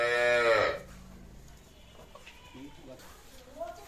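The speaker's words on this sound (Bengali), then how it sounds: "সামনে দেখছি বেশ কয়েকটি গাই বাছুর" A loud, close, drawn-out moo from a cow in a herd of cows and calves opens the moment, then fades into quieter rustling and faint, intermittent animal sounds in the background.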